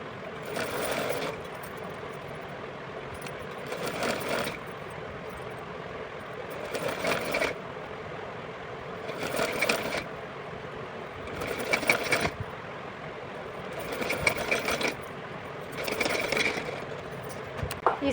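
A sewing machine stitches cloth in repeated bursts of rapid mechanical whirring, each lasting one to two seconds with short quiet pauses between, close and clear.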